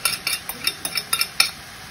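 A utensil scrapes and taps through ground meat and sauce in a pan for lettuce wraps, about eight quick, evenly spaced strokes with a faint sizzle beneath, close and fairly loud.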